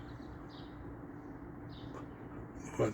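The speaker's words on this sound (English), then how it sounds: "I don't know what's this bird that keeps saying the same thing over and over." A bird repeats the same short call several times, faint and distant over a steady low outdoor rumble.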